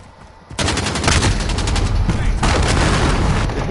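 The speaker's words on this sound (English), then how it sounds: "Cruise missile away." Call of Duty Modern Warfare 2019 cruise missile strike with gunfire: a sudden loud blast opens into dense, sustained rumbling explosions and rapid shots, with a second surge partway through, close and continuous.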